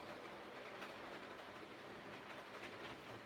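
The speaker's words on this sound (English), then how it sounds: "Alright, so it's the points. It's where the train's running over." A model train rolls over track points, giving a continuous quiet rumble with faint rhythmic clicks from the wheels crossing the rail joints, close and steady with no talking.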